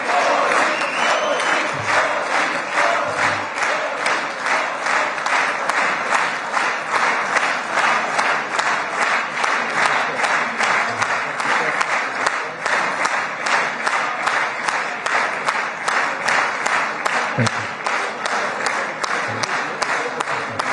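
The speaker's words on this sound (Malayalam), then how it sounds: "മോദി മോദി മോദി എന്ന് വിളിച്ചുകൊണ്ട് ആവേശഭരിതരായി കൈയടിച്ചാണ് അവർ സ്വീകരിച്ചത്." Members of the Israeli parliament clap in strong unison for Narendra Modi, a loud, steady beat of rhythmic applause running nonstop for about twenty seconds, with crowd enthusiasm mixed in.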